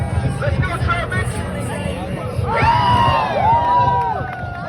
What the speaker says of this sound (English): Give these two people a big round of applause, folks